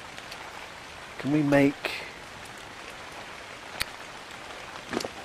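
Steady rain falls throughout in the survival game ARK: Survival Evolved on PS4, a continuous soft hiss beneath occasional speech and a couple of brief sharp clicks.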